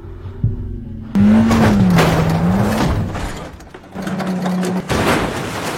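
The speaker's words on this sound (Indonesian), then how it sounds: "Diego pun langsung tancap gas mendorong mobil Mario ketika dia sudah masuk ke mobilnya." Car accelerating hard to ram another car in a film scene, a loud revving engine roar with a whining tone that rises and falls, cutting off briefly before surging again.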